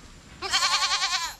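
A single goat bleats close by in one drawn-out, wavering cry of about a second, following a short quiet lead-in.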